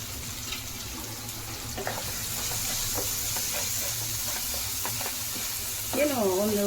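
Mutton already boiled with salt and turmeric fries in a pan for a mutton sukka, giving a steady broadband sizzle with faint scattered scrapes of stirring and a louder clatter near the end.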